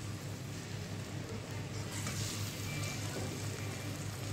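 Masala frying in a pan over medium heat, a steady close hiss of sizzling oil with a low continuous rumble underneath, unbroken for several seconds and no talking.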